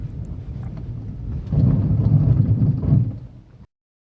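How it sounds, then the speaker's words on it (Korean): A car brakes with ABS engaged on a snowy road at about 20 km/h: a low, rumbling judder that swells louder for a couple of seconds, then cuts off abruptly. "일단 ABS가 걸리는 제동, 시속 20km로 주행을 하면서 제가 보여드릴게요."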